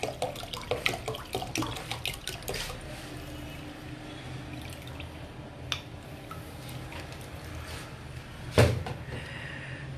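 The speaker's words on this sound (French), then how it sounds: "Donc, ce que vous faites, vous versez beaucoup d'eau." Lots of water poured for a spiritual bath, a steady close splashing wash with scattered knocks and clatters, one louder thump near the end.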